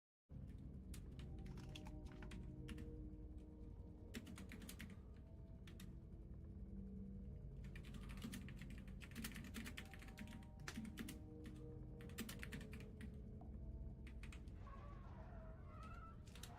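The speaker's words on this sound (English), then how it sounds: "Just typing the response to Kerlatin because he's having trouble with" A computer keyboard clatters in quick bursts of typing with short pauses, fairly faint, while pigeons or doves coo softly in the background.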